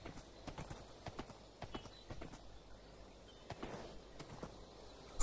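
Horse hooves clip-clop steadily in the video game Minecraft, an even, moderately loud walking rhythm over a constant high insect chirp, with no talking.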